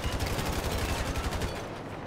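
Gunshots in Grand Theft Auto 5 ring out as a rapid run of evenly spaced cracks, fairly quiet in the game mix and trailing off near the end.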